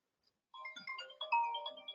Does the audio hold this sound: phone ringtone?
yes